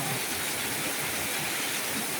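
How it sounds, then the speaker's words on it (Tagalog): Heavy rain pours down steadily in a broad, dense hiss, loud and close with no letup and no voices. "Walang gala kasi ang lakas ng ulan."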